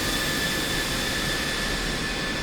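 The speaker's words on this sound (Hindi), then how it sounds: "क्योंकि शोर काफी ज्यादा हो रहा है इंजन का" An F-16C jet engine runs in the DCS flight simulator game: a loud, steady roar and whine that holds constant throughout, close and alone with no voices.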